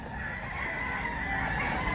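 Chickens with a rooster crowing at Mantalungon, Barili, heard through a dense, steady wash of background noise that runs the whole time.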